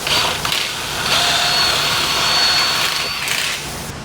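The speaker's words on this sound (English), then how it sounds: "We'll simply drill through the bracket and through the roof" A power drill whines loudly and steadily for several seconds, its pitch wavering slightly as it bites through a metal bracket and a Can-Am Defender roof, then tapering off.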